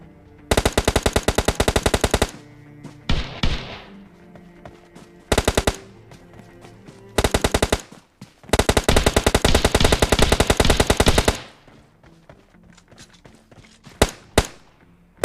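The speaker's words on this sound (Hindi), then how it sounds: "लेकिन भाई यहाँ पास मेरे टीममेट ने उस बंदे को इजीली मार दिया M416 से।" In the PUBG Mobile Lite video game, an M416 rifle and an S12K shotgun fire at each other in a close fight. Loud rapid automatic bursts come in several long volleys, with single heavy shots scattered between them.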